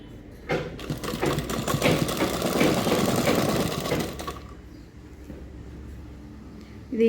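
Sewing machine stitching cloth, a rapid mechanical whirring run of about four seconds that starts suddenly, then stops, leaving a quieter low hum and a soft thump.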